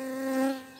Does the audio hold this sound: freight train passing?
no